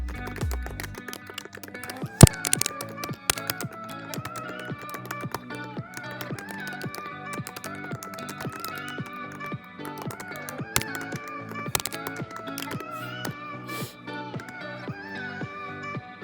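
Someone types an email on a computer keyboard, a rapid, uneven run of close key clicks that keeps going throughout, with occasional louder taps, over faint background music.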